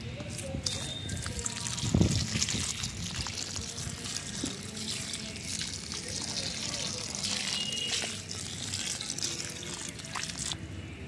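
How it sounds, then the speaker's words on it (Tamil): Water poured from a container onto a seedling just planted in a pot of sticky clay potting mix on a terrace garden, a steady near trickle and splash that runs throughout, with a brief louder burst early and a voice talking over it. "தண்ணி ஊற்றலாம்."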